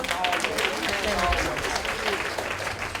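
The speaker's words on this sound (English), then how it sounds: "Let's give them another round of applause." An audience at a sorority open house gives a round of applause, dense clapping holding steady throughout with some voices mixed in.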